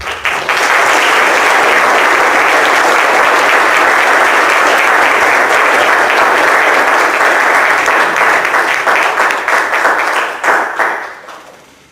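An audience applauds a speaker after a talk, producing loud, sustained, dense clapping that holds steady for about ten seconds and then thins into a few scattered claps before stopping.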